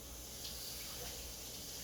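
Tap water running steadily into a kitchen sink while a plate is rinsed, a soft continuous splash close by with no talking.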